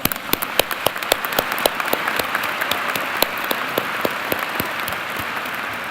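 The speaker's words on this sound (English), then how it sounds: "Let's give them all a round of applause." Commencement audience at the Carlson School of Management undergraduate ceremony applauds faculty and guests, a sustained wash of many hands clapping with distinct individual claps standing out, moderately distant in a large hall.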